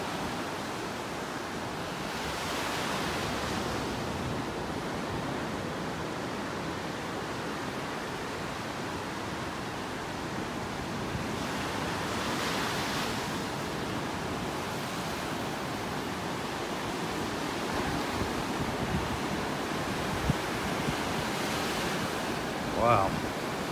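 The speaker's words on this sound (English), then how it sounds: "Some rough water out there this morning." High-tide ocean waves break on a beach in North Naples, Florida on a rough morning, a continuous roaring wash that swells and recedes every several seconds, with light wind noise on the microphone.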